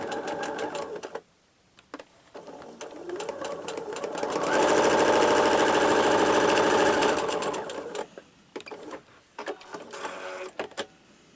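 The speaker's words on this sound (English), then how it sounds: "So I'm going to stitch right along that line." A sewing machine stitches quilt pieces for a Union Square pattern, starting with a few short bursts, then running loud and steady for about four seconds before slowing into brief stops and restarts, with no talking.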